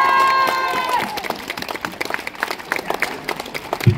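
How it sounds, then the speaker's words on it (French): Crowd applause at a cosplay contest during an anime convention, rising after a fading musical note into scattered, lively clapping with some cheering, fairly distant and hall-like. "un immense tonnerre d'applaudissements pour les encourager"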